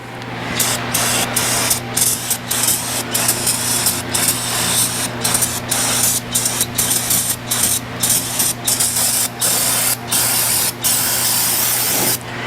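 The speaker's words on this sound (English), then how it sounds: "let that brake cleaner soak in there, dry that grease up, and then clean that up" Brake cleaner sprayed from an aerosol can onto greasy Chevrolet engine parts during reassembly of a 2005 Avalanche engine: loud, close hissing bursts repeating in a steady rhythm of short pulses, with no talking.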